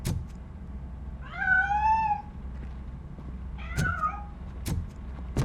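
A cat meows twice inside a piano in the video game Robocop Rogue City, two drawn-out wavering cries over a low background hum, with a few sharp clicks between.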